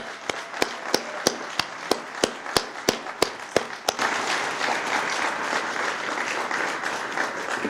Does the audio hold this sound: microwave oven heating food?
no